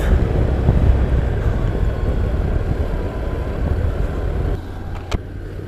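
A new motorcycle rides out on its first test run on a fine day, its engine and wind rumbling steadily and fairly loudly throughout, then settling into a lower, steadier drone near the end, with a brief sharp knock just after.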